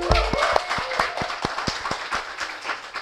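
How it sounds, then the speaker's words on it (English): A small audience at a business sharing session gives a light, scattered round of applause, individual claps audible one after another at close range. "Let's give him a applause."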